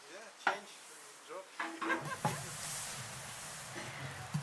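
Flax seeds are stirred by hand in a pan to make urbech paste in a Dagestan village, with faint scraping and rustling strokes, a few sharper knocks, and a low sizzle beneath, quiet and close.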